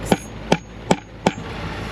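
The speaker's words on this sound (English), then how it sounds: "I need a hammer, and then we just hammer it through" A hammer drives a hole punch through metal backed by scrap wood, giving four sharp, evenly spaced metallic strikes, close and loud against a quiet background.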